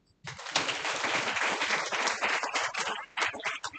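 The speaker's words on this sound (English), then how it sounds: "Shall we give a round of applause?" Conference audience applauding in a hall, a dense, sustained burst of many hands clapping that starts abruptly and carries on steadily for several seconds, loud and close.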